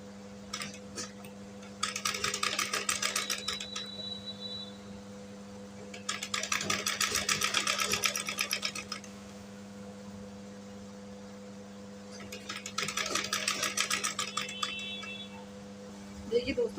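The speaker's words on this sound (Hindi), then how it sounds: "यहाँ से मैं सिलाई लगाऊंगी और हल्का हल्का सा इस तरह से खींचते हुए" A domestic sewing machine stitches a piping strip onto a blouse in three long runs of rapid mechanical whirring, separated by quieter pauses, close and fairly loud over a steady background hum.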